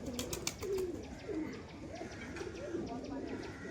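Pigeon cooing from birds shown at a pigeon sale, soft repeated low coos in short phrases among background chatter and other bird noise at moderate distance.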